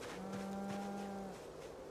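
A cow in the video game Project Zomboid lets out a single long, low moo that lasts just over a second and sounds close but quiet.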